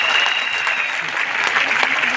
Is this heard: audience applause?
yes